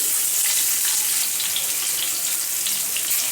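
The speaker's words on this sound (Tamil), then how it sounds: "நெய் நல்லா உருகினதும் இதில் எடுத்து வச்சுக்க மிளகு ஜீரகம் போட்டுக்கலாம்." Black pepper and cumin sizzling in melted ghee, a steady, hissing crackle heard close up throughout with no voices.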